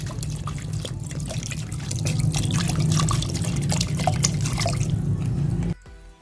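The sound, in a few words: water poured into potato mixture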